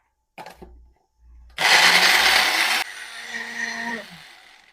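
A mixer grinder grinds chana masala paste in a loud continuous burst of about a second and a half, then runs on more quietly with a steady whine, after a few short motor pulses at the start.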